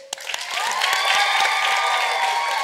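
Applause swells quickly from a few scattered claps into sustained clapping from a crowd, with some cheering and whistles mixed in.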